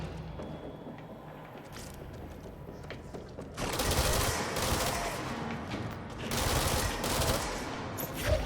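Ranged enemy fire aimed at the player in the action game Control: a quieter stretch of scattered shots gives way to loud, dense bursts of rapid gunfire in two heavy waves, with no talk over it.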